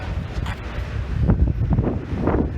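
Gusty wind buffets a microphone outdoors in Paris near the Grand Palais, low rumbling bursts that rise and fall unevenly, loud and close.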